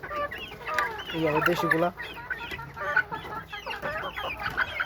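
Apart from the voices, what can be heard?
white rooster chickens clucking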